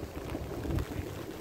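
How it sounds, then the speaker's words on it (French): Steady rain patters and hisses in a continuous wash of noise, fairly faint, with no voices. "il pleut quoi."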